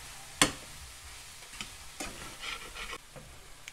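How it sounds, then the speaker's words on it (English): Vegetables cook down in an oil-free pan for low-fat vegan tacos: soft scraping and stirring with a faint sizzle, one sharp knock early on, then scattered light clatters, with no talking. "These vegetables are cooking very nicely, cooking down."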